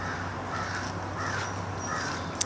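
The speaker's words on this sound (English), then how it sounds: "There's a big murder of crows," Several crows caw in scattered bursts at a moderate distance outdoors on a rainy day, over steady low background noise, with no talking.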